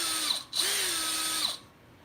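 A power drill bores into a rivet head on a W900 truck build, whining loudly with a brief pause and restart, then winding down after about a second and a half.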